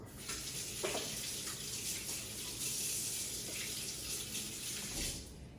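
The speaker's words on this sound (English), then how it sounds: "I'm gonna wash my hands" Tap water runs steadily into a sink while hands are washed beneath it, a soft close splashing with faint shifts as the hands move through the stream, with no talk.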